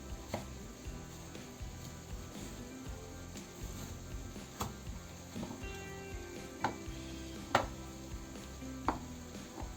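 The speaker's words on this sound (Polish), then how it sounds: "Marchewkę przecinamy na pół." A knife slicing through a carrot on a cutting board in a home kitchen, with a few sharp, separate cutting knocks spread over a quiet background and no talking.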